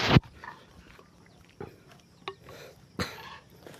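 A pig grunting near a cornfield on a farm, giving several short, separate grunts and snorts with quiet pauses between them, close by, with no talk.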